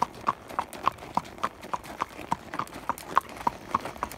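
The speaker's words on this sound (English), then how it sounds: "I'm riding Mr. Chase" Horse hooves clip-clopping at a steady walking rhythm while being ridden in a barrel-racing setting, close and distinct, with faint background voices.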